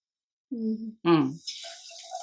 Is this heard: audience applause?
no